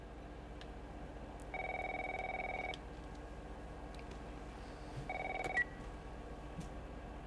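A phone ringing in the video game The Last of Us, two steady electronic rings over a quiet background hum, the second one shorter.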